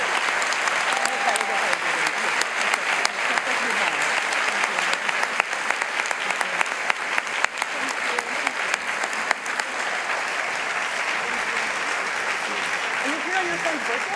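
Audience applause at a conference session on the economy, a steady dense clapping that fills the whole stretch without a break, with faint voices mixed underneath.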